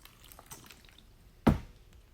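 Faint soft trickles as water is poured through soil in a plant pot, then a single distinct wet drip or splash, brief and close, in an otherwise quiet space.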